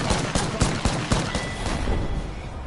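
Rapid video game gunfire in a shooter match, a burst of sharp, close shots fired in quick succession for about two seconds, then fading into a lower rumble of background noise, no talking.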